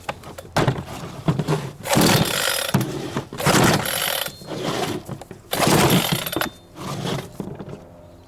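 A cheap $99 chainsaw bought from Amazon is repeatedly pull-started without firing, giving loud, close bursts of ratcheting recoil-cord whirring separated by short pauses.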